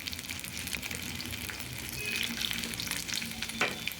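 Peeled garlic cloves drop into oil where fenugreek seeds are frying for a Tamil kuzhambu, producing a close, crackling sizzle with scraping stirs and a sharp spatter near the end.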